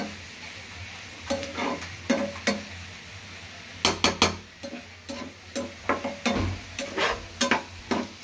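Fried rice with cabbage being stirred in a pan, spatula scrapes and clinks landing in an irregular rhythm over a low sizzle, close and with no talk.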